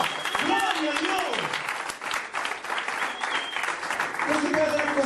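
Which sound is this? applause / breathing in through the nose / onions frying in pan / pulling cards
applause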